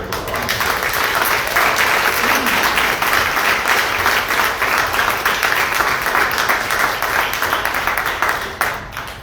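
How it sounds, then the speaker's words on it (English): An audience at a vegan film screening and panel discussion bursts into loud, sustained applause that fills nearly ten seconds at steady strength before tapering off at the end. "let's give a big hand of applause."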